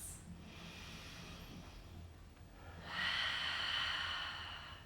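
Deep, slow breaths drawn in and pushed out during a gentle stretching session. Two long, hissing exhales stand alone, faint and close, with the second fuller and stronger.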